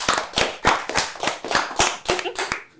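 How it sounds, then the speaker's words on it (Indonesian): A small group claps hands in rhythmic bursts, about eight sharp, close claps at a steady beat before trailing off. "Oke, luar biasa, kasih tepuk tangan."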